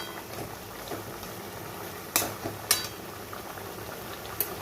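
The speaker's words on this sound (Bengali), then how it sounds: "খুবই নরম মাছ, খুব বেশি ফোটাবো না।" Bengali bhola fish curry with ginger paste simmering gently in a pan, giving a steady soft bubbling hiss broken by a few sharper pops, with no voices.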